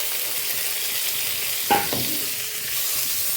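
A fried fish head and fried potatoes are sautéed in a pan for a Bengali murighonto. A steady sizzle carries one sharp scraping stir partway through the short stretch.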